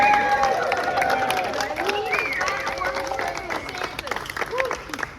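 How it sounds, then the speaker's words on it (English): A crowd at an outdoor activist press conference in Florida applauds with scattered clapping mixed with cheers, whoops and shouting voices, fairly loud and sustained. "Please give yourselves a round of applause for being here."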